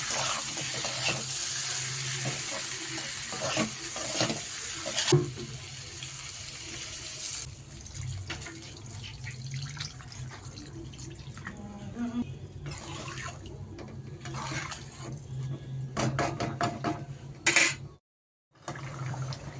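Water poured into a pan of pointed gourd and prawn curry, a steady splashing hiss over continuous sizzling and stirring, with a short drop-out near the end.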